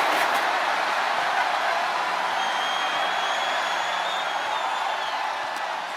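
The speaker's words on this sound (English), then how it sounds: "A deafening cheer from the WWE Universe is reverberating around us." A dense, roaring crowd cheer fills a virtual wrestling arena in WWE 2K25 during an Undertaker versus Roman Reigns casket match, a steady wash of noise sustained evenly throughout.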